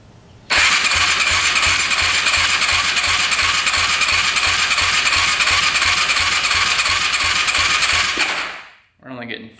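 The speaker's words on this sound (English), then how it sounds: "Throttle open, hit the start button." A 450cc race quad engine cranking on its electric starter with the throttle open, a loud, steady, rapid whirring churn that runs for about eight seconds without firing, then stops abruptly.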